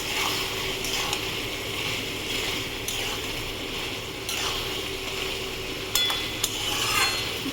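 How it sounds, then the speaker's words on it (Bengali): Fish curry of morola fish with black pepper powder being stirred in a pan over high heat, a steady soft sizzle with a few clinks and scrapes of the spoon against the pan. "এবার আমি এর মধ্যে একটু গোলমরিচের গুঁড়ো দিয়ে দেবো। নেড়ে নিই।"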